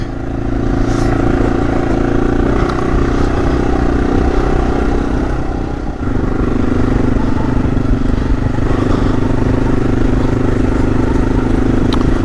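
An AJP PR7 adventure motorcycle climbs hot, hilly terrain. The engine drones loudly and close, steady and unbroken, with a brief dip in the middle and faint clatter on top.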